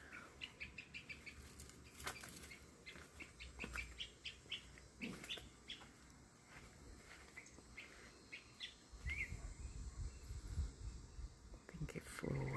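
Small bird chirping outdoors among potted orchids, with repeated short tweets and bursts of wing flapping over light background rustle, fairly close and moderately loud.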